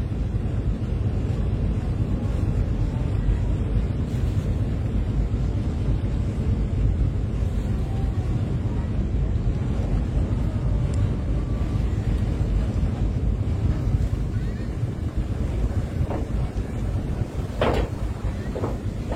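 Lake Toba ferry motor ship Sumut 1 arriving at Tigaras port from Simanindo, Samosir, a steady low engine rumble with wind and water noise throughout, constant and fairly loud.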